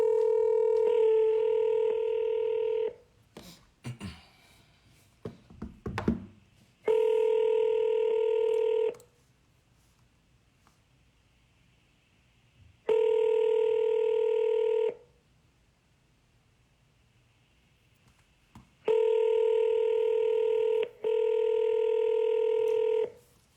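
An outgoing phone call keeps ringing: a steady electronic ring tone sounds in long repeated bursts roughly every six seconds, with a brief clatter of handling or dialing between the first two rings and no voices.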